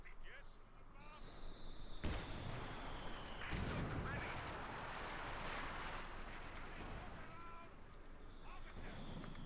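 Heavy artillery fire in the video game Company of Heroes 2 as German guns pound positions: booming impacts and blasts roll through a dense battle din, with a commentator speaking over it.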